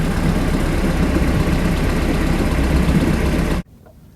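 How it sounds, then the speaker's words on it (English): A 2006 Bayliner 175 boat's 3.0 engine idles steadily with a low, rumbling chug, close and loud, then cuts off abruptly near the end leaving near silence. "when it's idling, you can hear her running and idling away"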